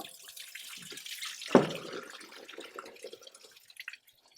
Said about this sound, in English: When you disconnect, you're going to have some water right here.